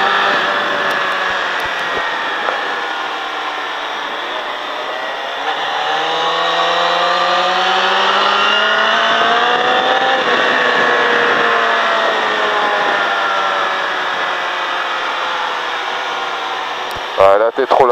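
A motorcycle engine on the Mettet track, its pitch rising and falling as the rider works the throttle, loud and sustained with rising revving sweeps.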